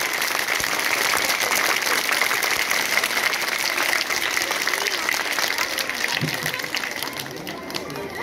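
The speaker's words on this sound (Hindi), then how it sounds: "जोरदार ताली बजनी चाहिए" Audience applause for a school headmaster at an Urdu school event, steady dense clapping from a crowd sustained throughout.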